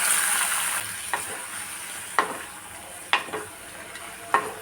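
Thick onion slices dropped into hot tempering oil while a pachadi is being prepared, giving a loud, continuous sizzle broken by several sharp stirring scrapes.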